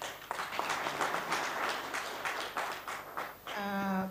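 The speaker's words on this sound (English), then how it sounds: "A round of applause for OPA." Applause for OPA at the launch of a dryland natural assets inventory, a moderate round of scattered clapping from a seated audience that fades near the end as a tone sounds.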